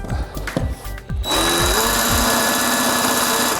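Jigsaw cutting through a faux brick wall panel to square off its edge, starting after a few light taps and then running as a loud, steady buzzing whine with rapid blade chatter.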